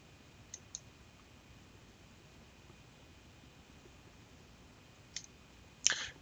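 A computer mouse clicks a few times in a quiet room: two light clicks, a pause, then another click and a louder final double click against soft background hiss.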